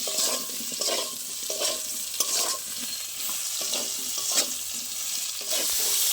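Salted banana pieces frying in oil, a continuous bright hiss and sizzle with rhythmic stirring or scraping taps every second or so, close and fairly loud, no talking.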